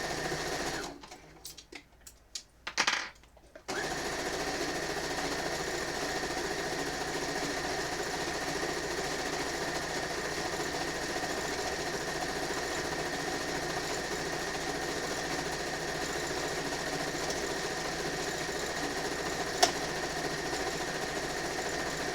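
A sewing machine stitches a pinned row of quilt pieces, running as a steady continuous mechanical hum for nearly twenty seconds after some brief handling noises at the start.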